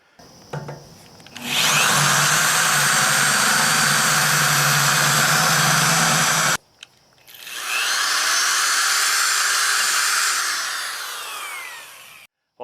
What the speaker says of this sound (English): Now I'll switch over to the electric drill and put a little bit bigger hole there.